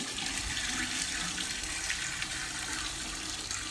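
Distilled water pours steadily from a container into a vessel for mixing with antifreeze in a cooling system service, a continuous close splashing rush with no talk.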